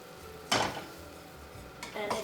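Ingredients for moussaka are mixed in a pan with olive oil and butter: two quick metallic scraping clinks from the utensil against the pan, close and fairly soft, over a steady low background hum.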